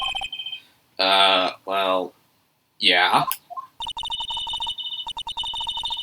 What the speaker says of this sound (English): You pressed redial on that phone